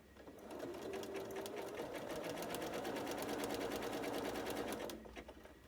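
Sewing machine stitching along the edge of an applique quilt block in variegated thread, a steady rapid needle chatter running continuously for about four seconds before stopping, close and alone.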